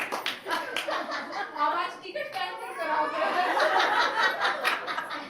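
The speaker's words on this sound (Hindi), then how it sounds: "दीदी को ताली तो बजाओ यार" An audience applauds a woman at a Word of God gathering in Haryana. The clapping comes in short bursts that are mixed with loud chatter, chuckles and voices talking over it.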